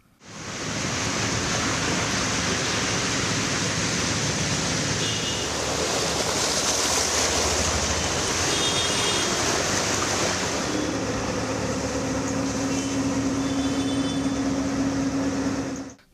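Electric motor pump pushing flooded rainwater off a Chennai road after heavy rain, a steady loud rushing hiss of gushing water over a low motor hum, continuous with slight shifts near the end.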